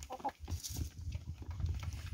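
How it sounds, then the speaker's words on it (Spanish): Chickens on a farm cluck in short, irregular bursts close by, with scattered scratching and rustling but no one talking. "Miren lo bonito que son esas gallinas."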